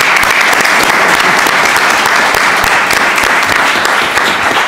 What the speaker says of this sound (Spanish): Un aplauso para Alejo.